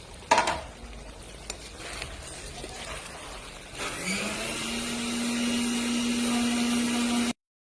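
Chicken curry masala with potatoes fries in a pan, starting with a few stirring clatters and then settling into a steady, loud sizzle with a low hum that runs to the end.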